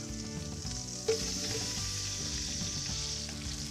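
Garlic and onion sizzle steadily in a pan of browned beef for Barolo braise, a loud continuous frying hiss with a brief clink near the start and no talking.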